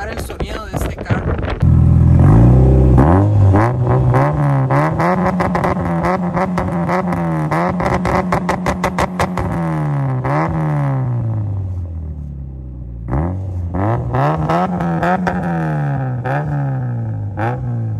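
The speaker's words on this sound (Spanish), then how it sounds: "vamos a ir a grabar el sonido de este carro." A Mitsubishi Evo engine with over 500 hp revs repeatedly, rising and falling in pitch, loud and close, with a brief pause before another round of revving.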